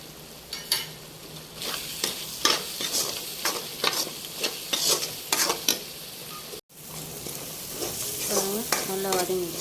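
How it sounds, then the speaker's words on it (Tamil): Chili powder, turmeric and cumin powder stirred and sautéed in a hot pan for prawn thokku, with a steady oily sizzle under repeated scraping spoon strokes, close and continuous, with no voices. "நல்லா வதங்கி வச்சுக்கணும்"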